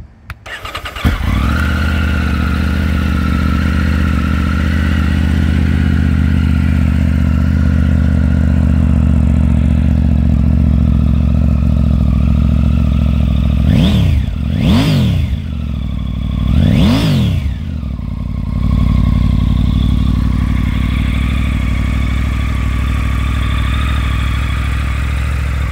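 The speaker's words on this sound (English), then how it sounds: "Go ahead and fire it up so you can hear the Aero exhaust." A Triumph Tiger 900 Bond Edition motorcycle with an Aero exhaust cranks and fires up close by, settling into a steady loud idle, with two sharp throttle blips near the end before it returns to idle.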